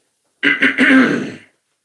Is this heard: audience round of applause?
no